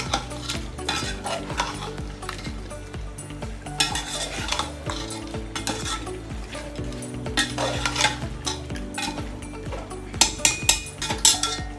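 Spices stirred and fried in a pan for chicken korma, a continuous busy sizzle mixed with repeated scraping and clinking of a spoon against the pot, close up and unbroken, with no voices.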